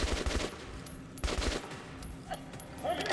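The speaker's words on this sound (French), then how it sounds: "On encaisse des tirs!" Gunfire in the video game Metro Last Light, two quick bursts of rapid low thumping shots near the start and again around the middle, fairly quiet over a steady background of game ambience.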